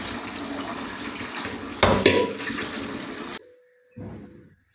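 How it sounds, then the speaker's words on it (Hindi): Cold water poured from a tap over boiled chicken drumstick bones, a steady loud rush and splash for about three seconds with a brief burst midway, then a pause and a short fainter second pour. "आप जो है हड्डियों में ठंडा पानी डालें"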